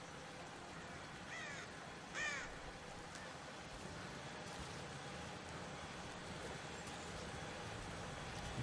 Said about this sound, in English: Ah, that's a bird.